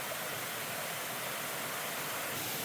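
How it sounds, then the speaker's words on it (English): Waterfall pouring inside a cave fed by springs: a steady, dense broadband rush with no breaks, fairly faint and heard alone. "now you guys can get another view of the waterfall"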